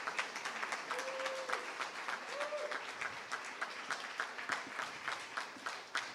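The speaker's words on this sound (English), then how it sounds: "I think we should applaud her even before she starts speaking." A crowd at a State of the City address applauds the mayor in a steady, dense round of clapping, with a couple of faint whistles or brief voices rising briefly above it.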